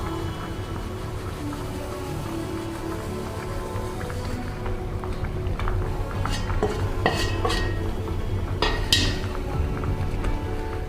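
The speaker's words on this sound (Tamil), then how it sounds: "நல்லா கலக்கி விட்டுட்டே இருங்க." A spoon stirs rava (semolina) kichadi in a pot, with scraping and clinking metal taps against the rim over a steady background bubbling.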